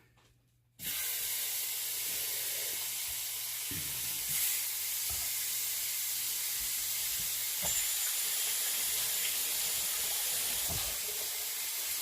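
Brined chicken hits a hot pan and bursts into a loud, steady sizzle and hiss that holds evenly for the rest of the clip, with a few faint pops and clicks.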